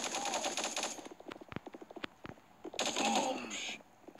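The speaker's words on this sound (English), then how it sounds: "it seems like every time I look away, I start getting shot." Automatic gunfire from the Guns of Boom shooter game comes in two sustained rapid bursts, with a string of sharp single shots and clicks between them, loud and close.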